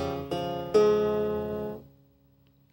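A krar, the Ethiopian lyre, plays a short ornamented phrase: a few quick plucks, then one strong note ringing close and fading away into near silence before another pluck at the very end.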